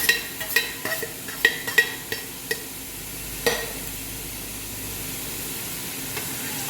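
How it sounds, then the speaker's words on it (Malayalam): Fried soli fish tipped into sizzling pickle masala and stirred, a steady hiss of frying under a few clacking stirs at the start, then a continuous sizzle. "വറുത്ത് വെച്ച മീനിടാം"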